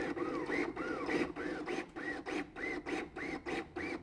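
A LUCAS mechanical chest compression device runs continuous compressions, giving a steady train of about eight rhythmic mechanical whirring strokes with rising and falling pitch, close and fairly loud, with no talking.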